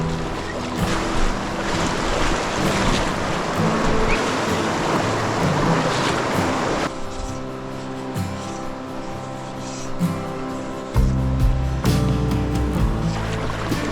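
Rushing river water during a packrafting trip in New Zealand, a steady broadband wash that stays loud throughout, thinning slightly partway and then surging again near the end, with no voices.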